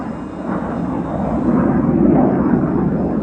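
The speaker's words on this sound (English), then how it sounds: "there's also jet fighters flying around at the moment" Jet fighters fly overhead in rural Greece, producing a loud, continuous roaring rumble that swells gradually over a few seconds, with no voices.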